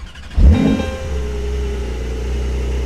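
A Porsche 911 Turbo S engine cranks and catches with a quick burst, then settles into a steady, deep idle rumble that continues alone.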